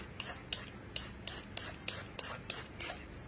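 Green papaya being grated for som tam: a steady run of rhythmic rasping strokes, about three per second, close and fairly quiet with no talk.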